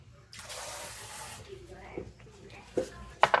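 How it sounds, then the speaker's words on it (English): A brief splash of water pouring for about a second, followed by faint clinks and small handling noises nearby. "I'll cut it with a little water."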